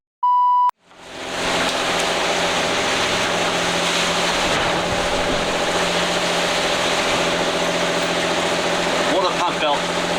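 After a short beep, a sailboat's diesel engine starts and runs steadily with a constant droning rumble, loud and close.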